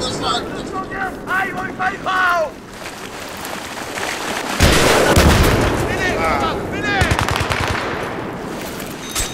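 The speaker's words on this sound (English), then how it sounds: "I was only shooting trees down" Rapid bursts of automatic gunfire with heavy explosive blasts in a first-person shooter game, loud and continuous, while players talk and laugh over it.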